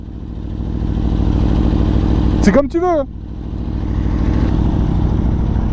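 A motorcycle engine hums steadily nearby on a quiet valley road, with a brief rising whine midway, while someone speaks French over it.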